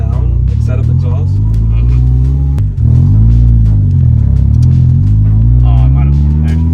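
A Honda car engine drones and rises in pitch through a basic exhaust setup, a low steady rumble that shifts as it revs, with a voice talking over it.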